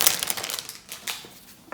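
An empty plastic packet from a LEGO Disney 100 minifigure crinkles and crumples in close-up, with irregular bursts of dry crackling and no voices.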